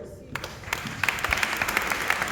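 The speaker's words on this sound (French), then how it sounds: "Tous vos applaudissements, s'il vous plaît." Audience applause at a French-language public address, starting after a short quiet moment and building into a steady wash of clapping with crisp individual claps, moderately loud.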